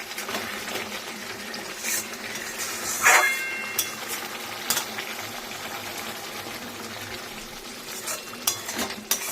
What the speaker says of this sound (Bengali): এবার এটাকে আমি এর সাথে ভালো করে কষাবো বিরিয়ানি মশলাটা দিয়ে।